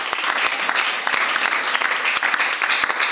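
A church congregation at a leaders' conference applauds its interpreter, with steady, dense clapping from many hands filling the room.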